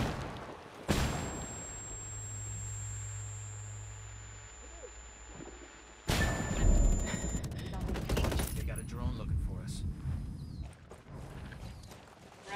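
A frag grenade goes off during a multiplayer shooter match with a sudden loud broadband blast, then another heavy burst and crackling gunfire-like debris that keeps the scene busy.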